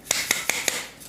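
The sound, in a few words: sifting cake and pastry flour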